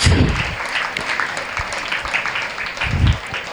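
An audience at a school scholarship event claps together, giving steady, fairly loud applause that swells and fades over a few seconds.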